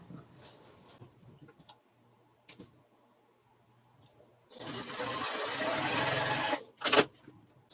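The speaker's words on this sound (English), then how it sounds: "I'm going to sew this piece on using a 1/4 inch seam" A sewing machine stitches fabric scraps onto a placemat with a 1/4 inch seam, running in a loud steady burst of about two seconds after quieter handling noises, then a short clunk as it stops.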